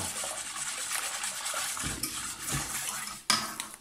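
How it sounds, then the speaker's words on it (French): Whole liquid cream is mixed with coffee and vanilla in a bowl, a whisk or spoon scraping and swishing continuously against the sides, close up, with a sharper clink near the end. "Je mélange."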